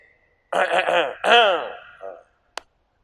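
A man clears his throat in two short, rough bursts followed by a softer grunt, then a single sharp click.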